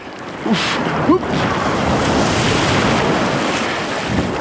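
Sea waves wash and surge steadily around a swimmer in open water, with a continuous close rushing wash and a few brief splashes near the start.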